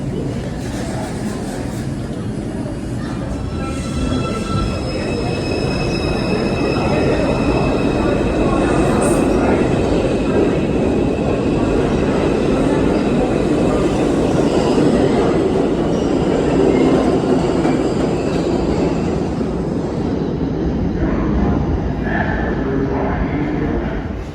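A New York subway train on the 5 line rumbles steadily throughout, with rattling wheels and a faint squeal, loud and continuous from start to end.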